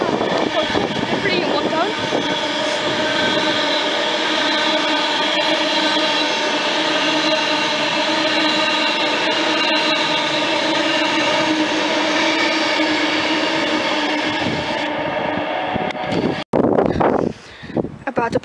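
A Virgin passenger train on the London Euston to Manchester Piccadilly service passes through a station platform, a loud sustained roar of wheels and engine with droning tones, ending in a rattling rush as the last cars clear.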